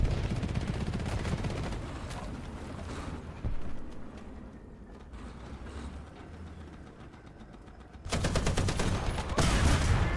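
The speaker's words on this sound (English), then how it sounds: "Unfortunately, I shoot empty space, but luckily my 50 cal finishes him off." War Thunder game with an M8A1 GMC: dense rapid bursts of .50 caliber machine gun fire mixed with engine rumble, easing to a quieter stretch and then returning loud and rattling near the end.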